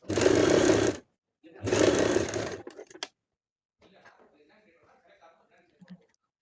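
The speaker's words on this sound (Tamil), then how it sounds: "ஸோ 3 இன்ச் கேன்வாஸ் வச்சு நம்ம ஸ்டிச் பண்ணிக்கலாம்" Sewing machine stitching canvas for a hip belt: two loud, close whirring runs about a second each, separated by a short gap, followed by faint handling noises and quiet movement.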